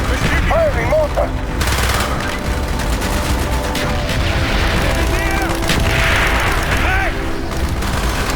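Mortar blasts and rapid gunfire in a Call of Duty: Black Ops mission, with continuous loud volleys and booms, some whistling shells, and a shouted voice over the battle noise.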